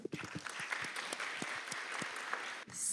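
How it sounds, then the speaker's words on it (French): Applause from the audience at a round-table on invisible disabilities in La Réunion, greeting a patient-expert speaker: a short burst of scattered clapping with distinct individual hand claps, fading out abruptly near the end. "Vous pouvez l'applaudir."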